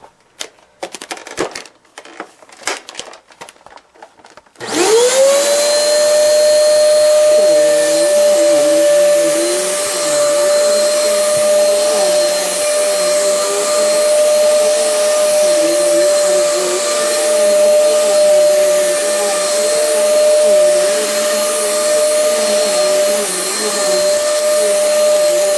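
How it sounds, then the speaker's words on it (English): A Fantom compact bagless vacuum cleaner switches on after a few seconds of clicking and handling noises, then runs with a loud, steady, high-pitched whine and roar for the rest of the clip. "Not the quietest vacuum,"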